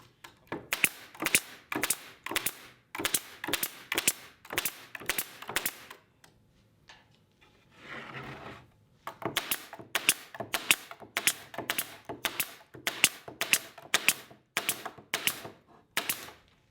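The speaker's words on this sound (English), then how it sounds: "I'm going to secure it with some brad nails." A brad nailer drives brad nails into glued cherry wood, a close series of sharp snapping shots in quick bursts with a short pause partway through.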